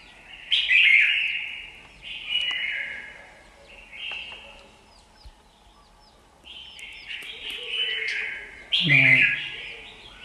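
A red-whiskered bulbul from Kim Bôi, Hòa Bình sings in a series of bright, clear phrases repeated every second or two, close and loud, and a voice is briefly heard near the end.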